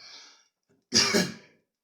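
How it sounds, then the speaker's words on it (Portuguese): A single harsh, chronic dry cough bursts out close by after a brief quiet breath, rough and noisy, lasting about half a second. "É uma tosse seca, crônica aqui"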